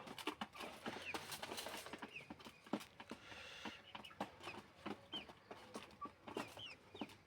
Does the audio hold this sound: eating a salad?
no